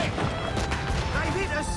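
Cannon fire rumbles through a broadside in Assassin's Creed Rogue, dense crashing booms layered over crew voices and battle noise at sea, loud and continuous without clear separate shots.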